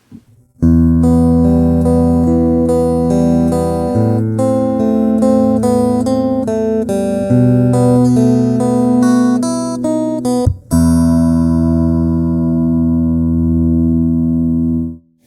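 Clean, bright electric guitar on the middle pickup position, playing a steady sequence of sustained chords and notes with a brief break near the end, no talking.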